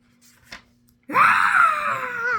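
A person lets out a long, high, wavering scream that starts abruptly after a quiet lead-in, loud and close, sliding slowly downward as it is held.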